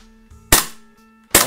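A Tokyo Marui HK45 tactical gas airsoft pistol fitted with a screw-on silencer fires two sharp, close shots a little under a second apart, with quiet handling noise between them.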